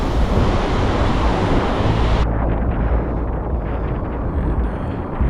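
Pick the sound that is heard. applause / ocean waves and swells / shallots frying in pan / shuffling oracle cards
ocean waves and swells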